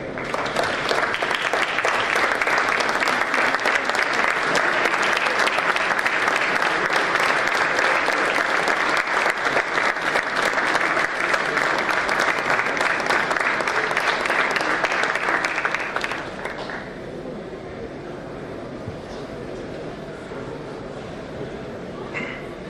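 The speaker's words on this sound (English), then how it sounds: "I request for a standing ovation from the gathering" Standing ovation from a gathering of lawyers and judges at a felicitation for Chief Justice of India Surya Kant, with loud, sustained clapping that runs steadily before dropping abruptly to a faint room murmur.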